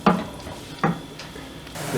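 Chopped medium-sized onion frying in a pan, a low steady sizzle with two distinct stirring scrapes of a utensil, close up with no voices.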